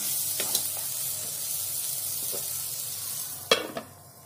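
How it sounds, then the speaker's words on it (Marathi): Gentle frying hiss with occasional scraping strokes of a spatula against a pan, scraping spices stuck to a wok-like pan cooked without water, two louder scrapes near the end. "आणि असं काढून घ्यायचं मसाला, ते सगळा मसाला खाली कढईला लागतो तो"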